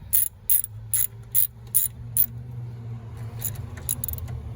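A ratchet wrench tightens coilover bolts on a Nissan 350Z resting on the ground, giving about six quick, sharp clicking bursts at close range followed by a few softer, faster clicks against a low background hum.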